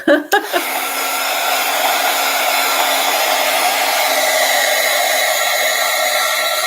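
A hair dryer used to dry a craft piece before a clear coat, a few brief clicks as it switches on, then a loud, steady close blowing whine that runs unbroken.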